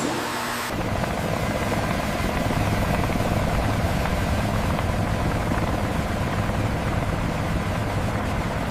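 A restored Soviet Mi-8 helicopter runs steadily, its rotor and turbine drone loud and continuous after a brief quieter opening, holding an even, rhythmic thrum to the end.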